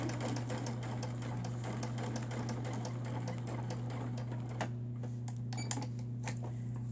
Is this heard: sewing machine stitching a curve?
yes